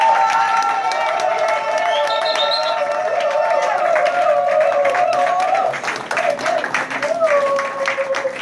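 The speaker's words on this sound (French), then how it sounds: "Nous acclamons pour la gloire de Dieu." A church congregation applauds and cheers in praise to welcome Reverend Paul Madikita, with steady clapping and raised, ringing voices filling the room loudly and continuously before easing slightly near the end.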